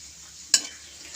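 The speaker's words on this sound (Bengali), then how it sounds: "ওই তেলের মধ্যে দিয়ে দিচ্ছি 2টো শুকনো লঙ্কা, 1 টুকরো দারচিনি আর একটা ছোট এলাচ।" Dried red chillies, a piece of cinnamon and a small cardamom drop into hot oil for a Bengali katla fish rezala, giving a single sharp sizzling burst that fades into a soft, steady frying hiss.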